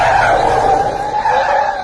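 A car brakes to a stop in a loud, sustained tire squeal, a steady screeching skid that holds for a couple of seconds without pause.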